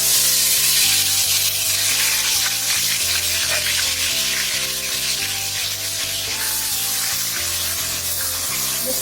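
Onion and green chili paste with chicken masala frying in a pan, a loud, continuous sizzle close by, with faint stirring scrapes and a steady musical backing throughout.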